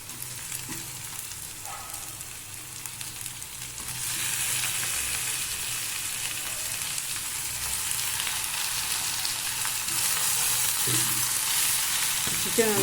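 Chicken added to ginger garlic paste for pepper chicken: close, hissing sizzle in a pan that jumps louder once the meat goes in and grows stronger again later, with occasional stirring.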